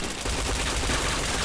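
Loud video game gunfire around a headshot, a steady dense burst of rapid shots running without break through the brief moment.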